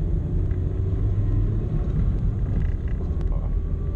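Peugeot 106 Rallye engine droning steadily from inside the cabin while driving, a loud continuous low rumble with road noise and no voices.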